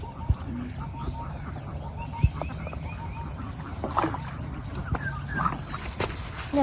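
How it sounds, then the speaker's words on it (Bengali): Ducks quack faintly and intermittently on flood water in rural Bangladesh, amid soft splashing and background murmur. "হাঁসদের আনন্দের দিন আজ প্যাক প্যাক প্যাক করতেছে"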